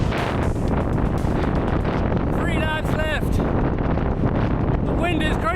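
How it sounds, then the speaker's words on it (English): Heavy wind buffets the microphone continuously while riding a bike during a 100-mile non-stop endurance time trial, a loud steady roar throughout with brief bird-like chirps and a voice partly under it. "Wind is crazy."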